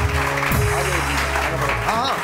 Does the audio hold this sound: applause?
yes